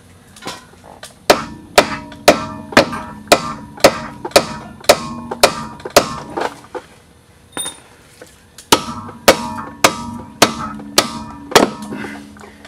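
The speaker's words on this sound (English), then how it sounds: "We can hit them from the bottom with a hammer now, knock them right off." A hammer strikes the upper control arms on an Audi A4 B5 1.8T to knock them loose, sharp metallic blows landing in a steady rhythm of about one per second, close and loud, with a brief pause midway.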